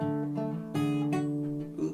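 Acoustic guitar fingerpicking a passage of L.A. Freeway, with the high string played open, giving distinct plucked notes that ring and overlap in a steady, close, moderately quiet pattern with no talking.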